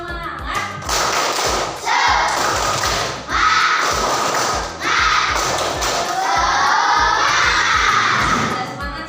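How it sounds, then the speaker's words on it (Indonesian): A classroom of children performs the tepuk semangat clapping chant, loud rhythmic group claps in repeated bursts with shouted chanting between them. "kita tepuk semangat dulu"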